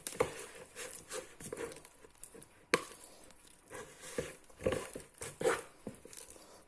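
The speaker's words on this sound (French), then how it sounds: "Je fais un pré-mélange à la cuillère, toujours de la même façon." A spoon stirs a premix of T45 flour and water into bread dough, giving soft irregular sticky pats and scrapes close by, quiet and unhurried, with no talking.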